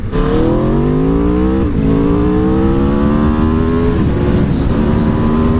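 An Aprilia sport motorcycle, an RSV4 or Tuono 1100 Factory, accelerates hard through the gears, its loud engine note climbing steadily with a quick shift break before rising again, close and unbroken.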